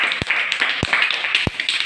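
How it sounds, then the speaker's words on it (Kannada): Children in a classroom clap together for a classmate, three sharp, evenly spaced claps standing out over a soft, busy room murmur. "ಮಹಾಲಕ್ಷ್ಮಿಗೆ ಎಲ್ಲರೂ ಒಂದು ಜೋರಾಗಿ ಚಪ್ಪಾಳೆ ತಟ್ಟಪ್ಪ"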